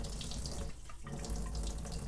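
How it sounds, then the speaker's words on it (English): Cold tap water runs steadily into a sink while oil paintbrushes are being cleaned, a continuous close splashing rush that holds for the whole stretch with no talk over it. "And I'm going to turn on my water."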